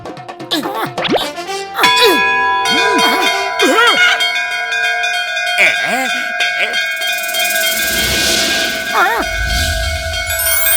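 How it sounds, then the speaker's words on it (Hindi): A magical bell in a Motu Patlu cartoon rings out loudly, its long ringing tones layered with bouncy, boing-like cartoon effects and a swelling shimmer across about ten seconds. "चलो दोनों एक साथ मिलके इस घंटी को बजाते हैं।"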